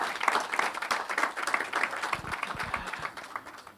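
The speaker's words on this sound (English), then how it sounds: "I think Mr. Kakari deserves another round of applause." Workshop attendees in Ghana give a business incubator speaker, Mr. Kakari, a dense round of applause, many overlapping hand claps forming a steady crackling wash at moderate volume.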